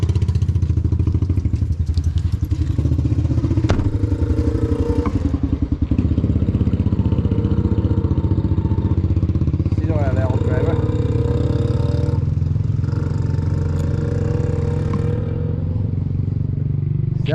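Tourist motorcycles pass along a road at Parkanaur Forest Park on Easter Sunday, their engines rumbling and revving loudly and close, with clattering and thumps, while people talk throughout.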